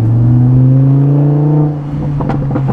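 A Ferrari cruises along a highway under construction with a low 60 km/h limit, its engine giving a steady, loud drone with a rising harmonic whine, then easing slightly before a few sharper bursts near the end.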